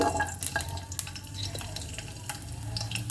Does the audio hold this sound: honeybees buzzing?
no